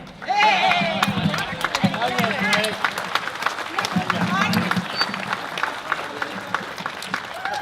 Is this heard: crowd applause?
yes